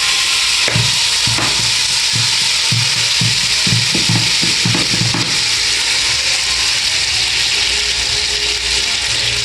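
Palm oil, called huile bassa, heats in a pot with a steady, loud sizzle and crackle throughout, punctuated early on by a run of rhythmic knocks and scrapes like a utensil stirring against the pot.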